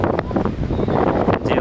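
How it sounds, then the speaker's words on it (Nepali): Cool wind gusts across an open hilltop viewpoint with railings at Kanchangadi, buffeting the microphone in a steady, close, rumbling roar that lasts the whole stretch. "हावा चलिरहेछ हावा सरर यो चिसो हावाको अनुभूति आनन्द भइरहेछ"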